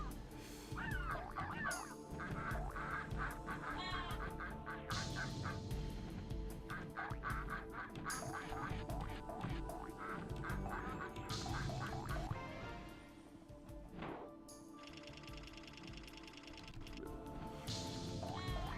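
A duck quacking in a homemade Frogger randomizer video game, a run of honking, goose-like quacks repeated over a busy, steady bed of game music and effects, loud and continuous throughout.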